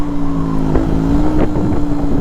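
A Zontes 125 motorcycle engine at full throttle, recorded from the rider's seat as a loud, steady, high-pitched buzzing drone mixed with wind rush.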